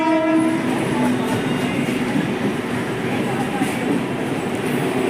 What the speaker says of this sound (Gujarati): મુંબઈ લોકલ ટ્રેન આ ચુકી હે પટરી નંબર 2 पे.